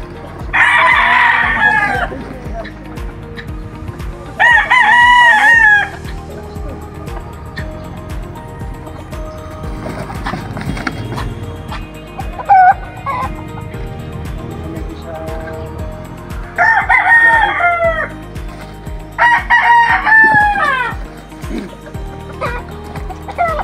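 Several rooster crows from a fighting cock ring out loud and close, two in the first six seconds and two more near the end, over a steady mix of rural background noise and faint talk.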